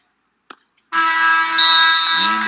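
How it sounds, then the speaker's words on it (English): A loud electronic buzzer ends a period at a college wrestling dual meet, blaring continuously for about two seconds after a brief click, harsh and steady. "Second period buzzer horns will go to the third."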